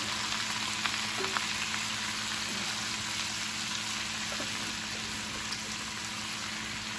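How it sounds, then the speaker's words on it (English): Chopped cabbage fries in a cast iron skillet with bacon, giving a steady, even sizzle and crackle that holds at one level for the whole stretch, with no voices over it. "I'm going to just let this cook down into your cast iron skillet."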